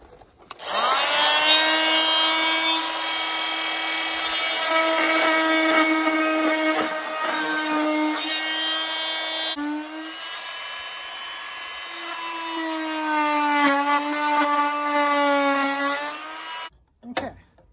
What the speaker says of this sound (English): That's a good job for the Dremel.